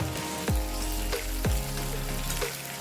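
Chopped raw onion and a chili fry in a hot pan, giving a close, continuous sizzle broken by a few sharp crackling pops.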